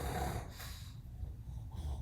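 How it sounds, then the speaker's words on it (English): A pug snores in short, snorting, wheezy breaths, close up and moderately quiet, with rough nasal rasps coming and going in an uneven rhythm. "That was a pug snoring."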